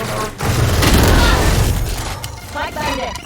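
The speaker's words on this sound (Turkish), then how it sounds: "Lan kim bomba atıyor?" Explosions and booming blasts in a Valorant match, a sustained loud roar with crackling bursts, heard alone without talk.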